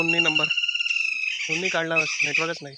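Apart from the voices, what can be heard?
birds calling in the evening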